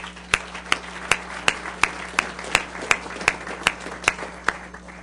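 A small audience at an open commission meeting gives slow, evenly spaced individual hand claps, about a dozen distinct claps over a low steady hum.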